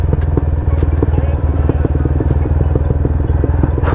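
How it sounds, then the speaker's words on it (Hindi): A Yamaha R15 M motorcycle rumbles loud and close, its exhaust crackling in quick sharp pops and bangs over a steady throbbing engine note. "और देखो पटाखे जो मार रही अपनी बाइक।"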